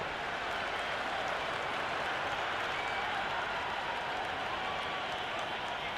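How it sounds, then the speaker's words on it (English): A dense stadium crowd roars and buzzes continuously in the Cricket 26 video game during an India versus South Africa one-day international, a loud, unbroken wash of cheering. "It's the most enthusiastic crowd you could ever see right now. There's a buzz, a real buzz coming from the stands."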